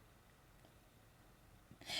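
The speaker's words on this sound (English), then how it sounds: "You sneeze like a kitten." A single short sneeze bursts out at the very end after a stretch of near silence in a dusty room, sharp and breathy, close to the listener.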